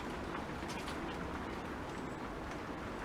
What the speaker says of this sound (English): I've just opened the window because it's so warm in here, so you can hear all the rain outside.